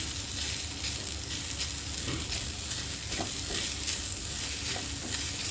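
Green chillies and okra fry together in a pan, producing a dense, even sizzle throughout with a few soft stirring scrapes beneath it.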